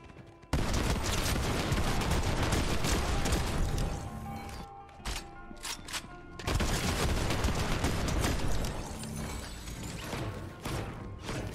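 Rapid bursts of Huntress DMR fire in Fortnite ring out loud and close, nearly continuous with a short lull in the middle before the shooting resumes.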